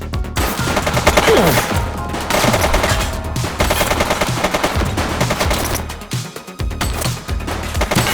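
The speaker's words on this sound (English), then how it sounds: "Shots fired!" Loud bursts of rapid automatic gunfire fill a police shootout in the video game The Precinct, near and continuous with short pauses between volleys and a brief gap late on.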